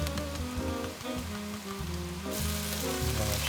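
Freshly chopped sage and dried thyme sizzle steadily in a hot pan on a truck-cabin stove, a constant close crackling fry with no voices.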